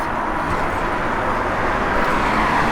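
A 1965 Buick Electra 225 driving along, with a steady low engine rumble and road noise heard from inside, even and fairly loud throughout.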